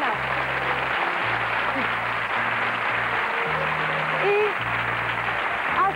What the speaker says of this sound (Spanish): ese fuerte aplauso para ella